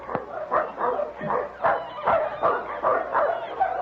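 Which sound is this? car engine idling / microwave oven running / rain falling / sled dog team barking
sled dog team barking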